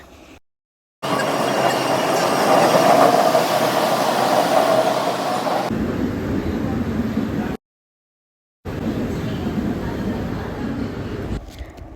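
Train at Jammu Tawi railway station, a loud continuous rumble of rail cars that runs through the whole stretch, broken by two short gaps of silence. No voices are heard.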